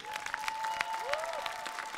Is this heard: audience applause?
yes